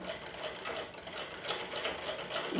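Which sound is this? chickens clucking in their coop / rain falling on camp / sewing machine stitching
sewing machine stitching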